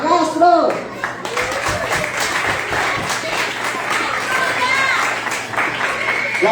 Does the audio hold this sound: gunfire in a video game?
no